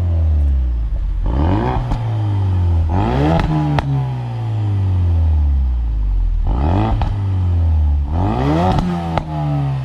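A 350-horsepower Ford Focus RS Mk3 engine revs hard in repeated bursts, rising and falling, with sharp pops and crackles from the stock exhaust between revs, loud and close.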